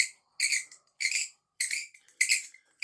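A tobacco pipe, caked up and being cleaned, gives off four thin, high whistles in a steady rhythm, each lasting about half a second with short silences between, close and fairly loud.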